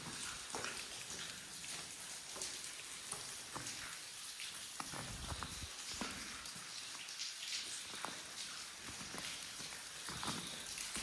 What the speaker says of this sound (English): Here's that water you hear running. It's coming out right there.